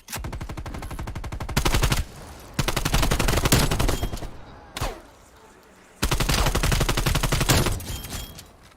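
Loud automatic gunfire rattles in rapid bursts in a first-person shooter video game on the Nuketown map, three long sustained volleys broken by brief gaps and a single sharp shot, with game ambience between.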